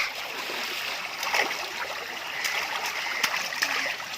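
Soft, steady rush of flowing stream water with a few small splashes, fairly quiet and continuous.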